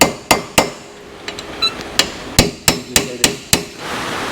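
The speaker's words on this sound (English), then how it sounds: "now take your hammer and punch right there on the flat side of the bearing" Hammer tapping a bearing into place by striking its flat side, about a dozen sharp metallic knocks spaced irregularly, close and loud, with a brief clink partway through.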